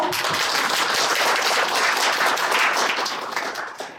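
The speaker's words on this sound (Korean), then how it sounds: "저희 모두 큰 박수 한번 할까요?" Audience at a Goyang city online town meeting on social welfare applauds in a dense, steady burst of clapping that holds loud and then tapers slightly toward the end, with no talk over it.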